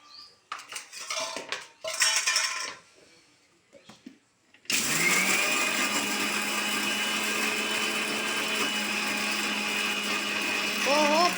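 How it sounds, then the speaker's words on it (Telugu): A kitchen mixer grinder whirs loudly and steadily as it grinds dry red chillies with salt, preceded by a few clattering knocks of the jar and lid before the motor starts and runs on without pause. "ఎండుమిరకాయలు మిక్సీలో వేసా."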